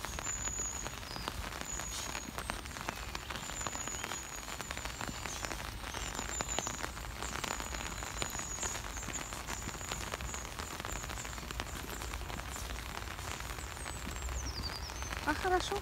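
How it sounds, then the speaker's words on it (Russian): Steady rain falls at a canal marina, a continuous close patter drumming on an umbrella overhead, with faint high bird calls above the wash. "Снимаем под зонтиком. Дождь. Дождь. Мы попали в дождь."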